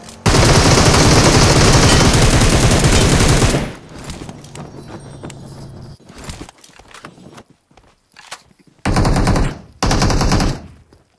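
Automatic gunfire in the PUBG Mobile video game: a loud, sustained burst for several seconds, then scattered quieter shots and footstep-like taps, ending with two more short, sharp volleys.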